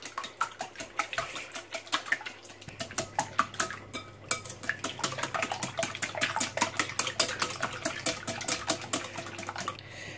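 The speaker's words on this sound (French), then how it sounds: "Je vais bien mélanger." Spanish omelette ingredients being mixed in a bowl, with rapid, steady clinking and scraping of utensil against the dish running throughout, close and moderately loud, with no talking.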